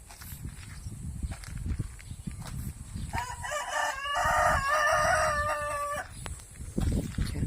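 A rooster crows once in a long, strained call nearby, while chickens cluck softly and rustle around it before and after.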